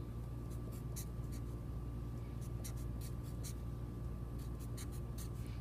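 A pen writes out a math function by hand in short scratchy strokes, repeated bursts of faint scribbling over a steady low background hum.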